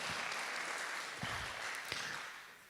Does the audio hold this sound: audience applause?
yes